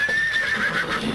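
A horse whinnies in a drama scene, a loud, close, drawn-out neigh with a wavering pitch lasting about a second, with faint hoof clip-clop beneath it.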